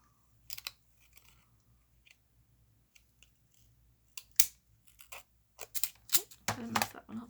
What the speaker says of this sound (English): I think my scissors are starting to get a little dull